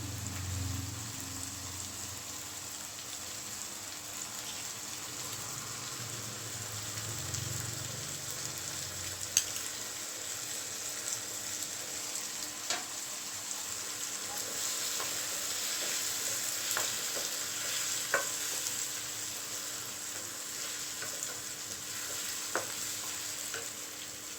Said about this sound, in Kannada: ರುಚಿಗೆ ತಕ್ಕಷ್ಟು ಉಪ್ಪನ್ನು ಹಾಕಿ ಫ್ರೈ ಮಾಡ್ತೀವಿ